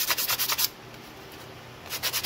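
Hand sanding of carbon fibre grips with 60 grit sandpaper: a run of quick rhythmic rubbing strokes, a quieter pause, then more strokes at the end, close and alone.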